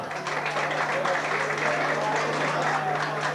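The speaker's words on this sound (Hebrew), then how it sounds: "מחיאות כפיים למשפחת צמח." Audience at a northern bands show at the Leonardo club in Acre, clapping steadily for the Tzemach family, a dense continuous wash of applause with a steady hum underneath.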